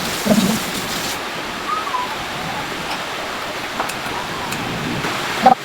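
Rain falls steadily outdoors as a soft, continuous wash, with occasional faint knocks and rustles and light background voices, during a home cooking session of adobong kangkong.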